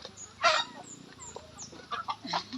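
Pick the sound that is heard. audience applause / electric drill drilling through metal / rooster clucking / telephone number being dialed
rooster clucking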